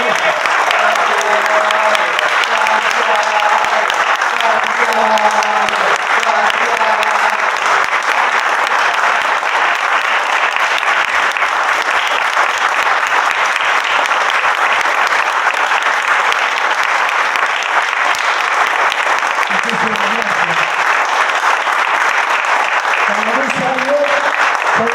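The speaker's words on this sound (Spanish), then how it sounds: "Y un aplauso fuerte para Santi, que" Loud, sustained applause from a crowd at a tribute, dense and unbroken for the full twenty-five seconds, with faint voices and cheers mixed in under the clapping.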